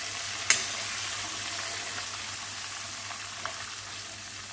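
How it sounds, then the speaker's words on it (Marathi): Oil frying in a pan while tomato pickle is being made, a steady soft sizzle with a sharp crackle near the start and another small pop later, no voices. "याला छान तळू द्यायचं आहे आपल्याला"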